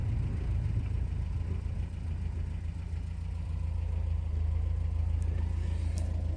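A Citroën DS wagon engine runs at a steady idle, with a low, continuous rumble close by and an even, unbroken tone throughout.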